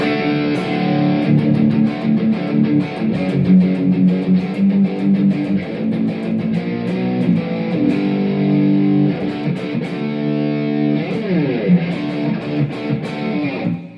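Heavily distorted electric guitar playing steady chords, loud and sustained throughout with no voices.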